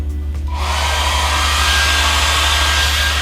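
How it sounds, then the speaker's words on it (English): A hair dryer switches on after a brief pause and blows steadily, a loud, close whooshing hum that holds to the end. "I'm going to use the hair dryer to see if I can."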